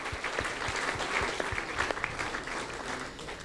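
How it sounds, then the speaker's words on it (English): An audience at a charity safety briefing night for a trailwalker event claps in sustained, dense applause of many hands, steady and moderately loud, with a faint murmur of voices underneath. "So massive round of applause for them."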